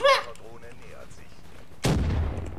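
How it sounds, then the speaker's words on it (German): A grenade bursts in a first-person shooter game: brief talk at the start, then a sudden loud, broadband explosion that booms and rumbles on for nearly a second. "Lass mal Granate werfen hier."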